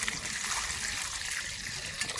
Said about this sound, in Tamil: கருவாட்டை கழுவிக்கலாம்.